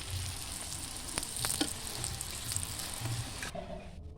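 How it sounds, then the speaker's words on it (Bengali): A mixed vegetable paratha fries in a generous amount of white oil, a soft continuous sizzle with scattered crackles, close but fairly quiet, cutting off abruptly near the end. "এই পরোটাটা ভাজার সময় অবশ্যই তেল একটু বেশি করে দেবেন"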